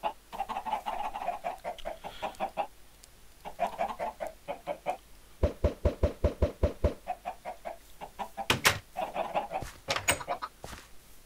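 Minecraft chickens cluck in a coop, a run of quick pecky knocks and clucks alternating with a commentator's voice, the clucks loud and close in short bursts.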